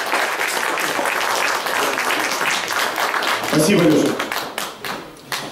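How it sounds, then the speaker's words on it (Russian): Audience applause at a concert in the Podporozhye cultural centre, a dense, sustained round of clapping from a crowd that thins out near the end, with a brief spoken thanks over it. "Алексей Зимин, аплодисменты."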